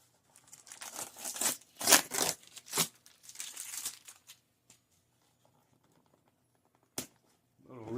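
A shipping package is opened by hand, with close, loud bursts of tape ripping and cardboard crinkling, then a lull with one sharp snap and a faint voice at the end.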